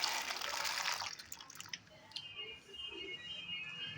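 Soaked peanuts tipped into a pot of hot water give a short splashy pour that fades into faint bubbling and gentle watery sounds, close and quiet.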